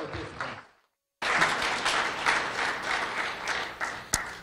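A large audience applauds the participants at an evening event, sustained dense clapping after a brief silence, steady and fairly close, with one sharp louder clap near the end.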